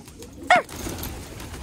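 A single brief pigeon call rises once over a quiet background, where pigeons are let loose from a loft for a flying display.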